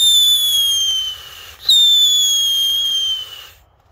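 A whistling firework (Pfeifer) shrieks in two long descending whistles, the second starting sharply after a brief break, loud and close outdoors, then cutting off into near silence.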